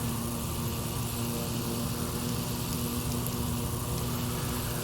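Propeller airplane engine in the X-Plane 11 flight simulator, a steady droning hum with a constant tonal whine and broad rushing noise, even and continuous for the whole stretch without talk.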